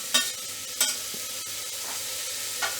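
Chopped tomato frying in a pan while being stirred, with a few sharp scraping clinks of a utensil over a steady soft sizzle, close and moderately quiet.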